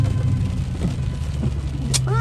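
A car with an open differential revs while trying to do donuts on wet pavement, a close, steady engine drone with a rising rev near the end, and someone talking over it.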